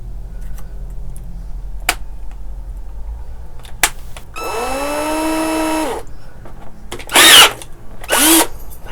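A power drill bores a screw hole in the wood of a 1970s Crestwood 2064 guitar in a workshop: one longer whining run, then two short bursts after it, with a few sharp clicks before.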